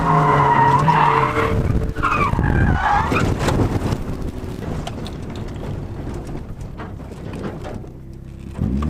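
A race car spins out on a road-racing circuit just past a corner, tires skidding and squealing loudly for a couple of seconds before the engine note settles into a lower drone with no talk.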